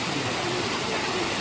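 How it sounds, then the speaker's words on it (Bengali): A waterfall at Rock Garden in Darjeeling roars as a loud, continuous broadband rush of falling water, close by and steady with no other sounds. "এই রক গার্ডেনে ঢোকার সাথে সাথে সামনে পড়বে এই সুন্দর ঝর্ণাটা।"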